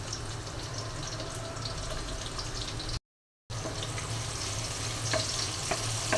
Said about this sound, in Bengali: এখন পেঁয়াজ কুচি দিয়ে দিচ্ছি।